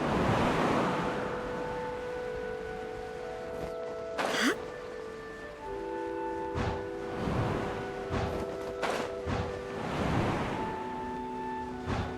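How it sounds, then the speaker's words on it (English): Wind in the video game Genshin Impact, a continuous soft whoosh that fills the whole stretch, with brief game chimes and sound effects over it and no speech. "There's wind up ahead! Looks like we can glide over!"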